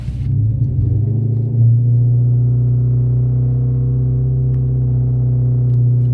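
A car fitted with a loud aftermarket exhaust drives along, its deep steady drone and rumble holding close and loud throughout, with a brief swell early on as it settles into cruising.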